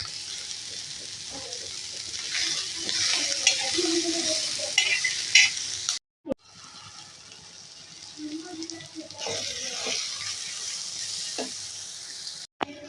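Green chillies softening in a little oil in a pan at home, with an ongoing hiss and crackle broken by scraping and stirring knocks, a brief cut midway, and someone talking over it.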